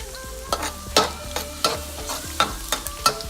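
Garlic frying in vegetable oil, stirred in a pan: a close, steady sizzle punctuated by about eight sharp metal scrapes in an uneven rhythm, loud and alone.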